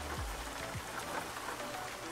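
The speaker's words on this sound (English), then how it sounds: "I just love the sound of rain." Steady rain pattering on a surface, a constant dense hiss with faint low thumps, no voices.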